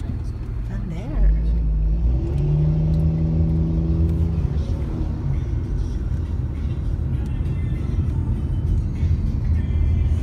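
Car driving through city traffic in Aberdeen, a continuous low engine rumble with a brief rise as it accelerates, while people talk inside the vehicle throughout.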